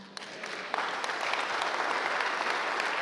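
A church congregation breaks into steady, full applause, dense rapid clapping that swells and holds for several seconds with no talking over it.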